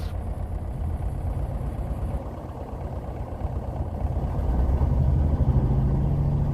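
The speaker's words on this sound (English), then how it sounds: "I'm going to rev it up and check my voltage." A BMW Isetta's small engine with a Dynastart starter-generator runs near and loud, a steady throbbing idle that rises as it is revved toward the end, with no talking.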